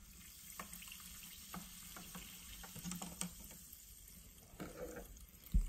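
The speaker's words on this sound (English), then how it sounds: "Let's stir it in a little so we'll get a better result on the TDS." Sparkling mineral water is stirred in a small TDS cup, producing faint clinks and soft liquid swishing over a fizzing hiss, ending with a brief louder knock.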